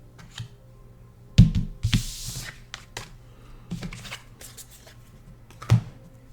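Oracle cards are shuffled by hand up close, with several sharp riffles and slaps spread across the stretch and quiet rustling between them.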